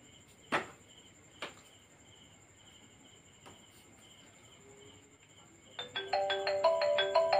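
A mobile phone rings with an incoming call, its electronic ringtone starting near the end as a loud repeating pattern of bright tones, after a quiet stretch with a few soft clicks and knocks.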